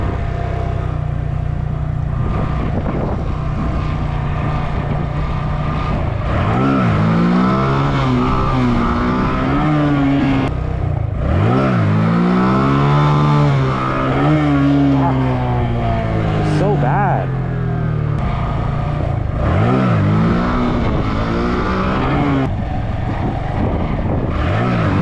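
A stunt motorcycle engine revs up and down repeatedly during practice, rising and falling throttle sweeps with jerky surges, loud and close, over a constant wind-like rush.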